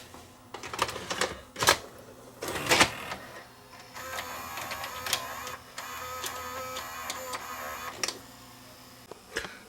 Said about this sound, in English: So let's load up a tape and see what it's doing.